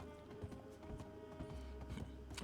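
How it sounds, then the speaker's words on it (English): Big draft horses clip-clop along in an uneven rhythm of hoofbeats, fairly close but quiet, over a low background hum. "those are big draft horses"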